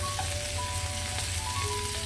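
Fish frying in a pan gives a steady, close sizzle with fine crackle throughout and no talking.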